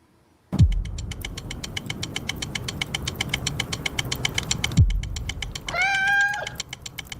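Cat meowing a few times over a steady rumbling engine hum with a rhythmic knocking pulse, the meows fairly loud and drawn out, no talking.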